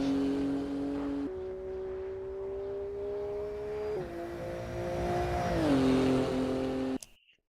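Engine of a Porsche 935 race car in the racing game Assetto Corsa EVO, a steady droning tone that shifts pitch a few times as revs change, moderately loud and then cutting off abruptly at the end.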